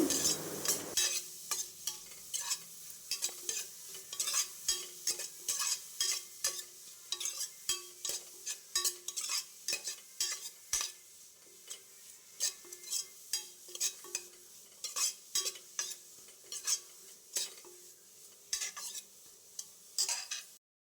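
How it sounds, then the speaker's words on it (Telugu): Grated carrot and beetroot frying in a pan, a spoon stirring with steady scraping strokes over a soft, continuous sizzle, close and moderately quiet, with no one speaking. "ఇప్పుడు ఇవన్నీ కూడా బాగా మిక్స్ చేసుకోవాలండి కొంచెం బాగా ఫ్రై అవ్వాలి"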